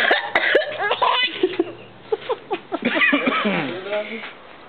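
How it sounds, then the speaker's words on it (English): A person coughing in repeated harsh bursts, close and loud, mixed with voices and what sounds like laughter throughout. "now I really got a cough"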